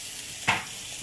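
Thin cut pork chops frying in a pan: a low steady sizzle with one short sharp hiss burst in the middle, close and brief.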